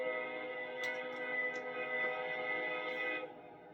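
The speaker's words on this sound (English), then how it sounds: "And just a train coming through, that's all." A small switcher train rumbles past with a steady mechanical drone and a few sharp higher squeals, fading slightly toward the end.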